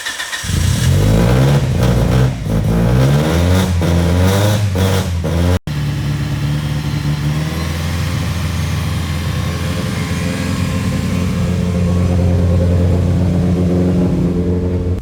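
Mitsubishi Evo 8 engine, fitted with a Haltech Elite ECU, running close by with a burst of sharp rising and falling revs early on, then settling into a steady, loud rumbling idle.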